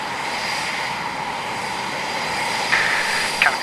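Jet aircraft engines running up with throttles advanced before taxiing out for runway 25, a loud steady roar and whine filling the cabin, with a few brief clicks near the end.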